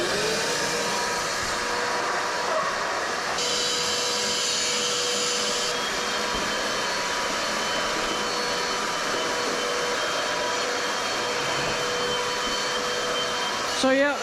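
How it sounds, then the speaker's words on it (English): A vacuum cleaner runs steadily over a bare concrete floor being prepped for primer and floor leveler, a continuous loud whine with a brief pitch shift partway through, with no talk over it. "So now I'm gonna vacuum up all that we've worked on"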